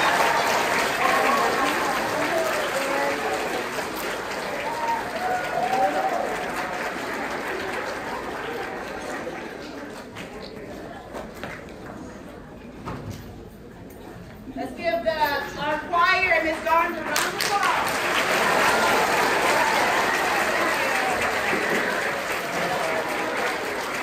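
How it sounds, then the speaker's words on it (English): An audience at a school Veterans Day program applauds as performers exit, steady broad clapping that fades midway and swells back, with people talking over it. "Let's give them one more round of applause as they exit."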